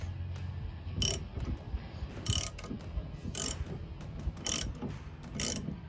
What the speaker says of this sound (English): And I'm just gonna torque it.